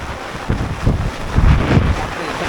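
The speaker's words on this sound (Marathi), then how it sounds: "वारं पण खूप सुटलेला आहे" A strong wind blows across a flooded river near a highway bridge at Rajapur. Its gusts buffet the microphone with a loud, rough roar that surges twice during the short clip.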